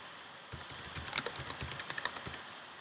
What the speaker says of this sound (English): so I'm typing my name.